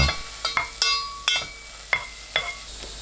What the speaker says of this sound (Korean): 중불로 2분 볶아주세요